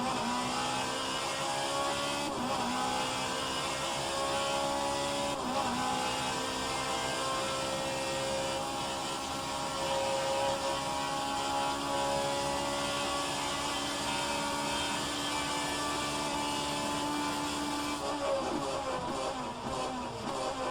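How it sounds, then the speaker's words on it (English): Engine of an Alfa Romeo 155Ti race car in a racing video game, a continuous droning whine that rises and falls gently through the gears, steady and moderately loud throughout, without talk over it. "can you hear the engine noise in the car at all?"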